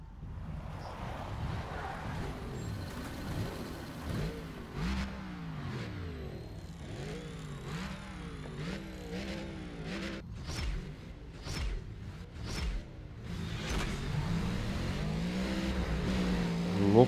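Racing car engine in Need for Speed ProStreet, an Audi RS4 or a Cadillac in a challenge event, revving and whooshing at moderate level with gear-change sweeps throughout, a voice talking faintly underneath.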